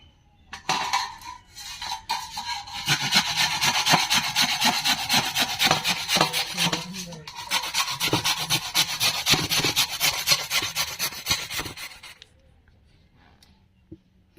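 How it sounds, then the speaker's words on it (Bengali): A carrot is rubbed against a hand grater in steady, rhythmic rasping strokes, close and loud with no talk, before the scraping stops near the end. "এবার আমি গাজরটাকে গ্রেট করে নেবো ঘষুনিতে"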